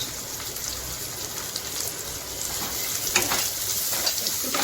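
Chopped chilli, cashews and raisins frying in hot oil, giving a steady close sizzle with faint crackles and a few stirring scrapes throughout, with no voices.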